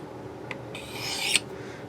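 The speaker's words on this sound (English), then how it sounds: "So I'll use this stone here. I'm not going to use the diamond. And this is just a plain white ceramic stone." Kitchen knife edge drawn across a plain white ceramic sharpening stone on a Work Sharp sharpener, giving a few close, short raspy strokes, the last one sharper, over quiet room noise.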